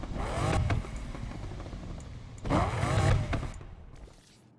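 A tuned car exhaust revs in Need for Speed Unbound, two loud bursts of engine roar rising and falling with crackling pops, separated by a steadier idle rumble, fading near the end.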